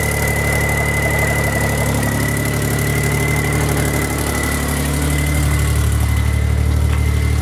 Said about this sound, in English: Engine still runs perfectly.